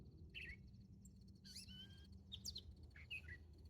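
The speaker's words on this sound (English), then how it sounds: "Indigo bunting, the bird." An indigo bunting sings at sunrise, giving several short, high, sweet chirped phrases separated by brief pauses, faint and somewhat distant over a low background hum.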